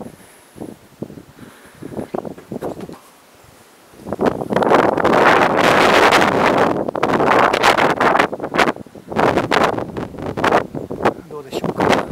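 Strong wind buffets a small action camera outdoors among cherry trees on Futamurayama in Toyoake, Aichi, the gusts roaring loud and rough across the microphone after a quieter, calmer opening.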